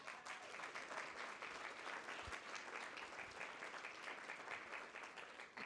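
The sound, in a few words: audience round of applause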